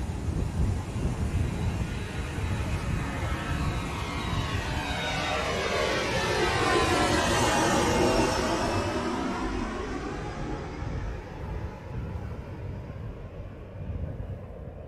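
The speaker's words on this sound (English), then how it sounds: "Cleared for takeoff on runway 13." A fixed-wing airplane takes off from a runway in a movie scene. Its roaring engine swells to a loud peak, then slowly fades, with a steady broad rush running throughout.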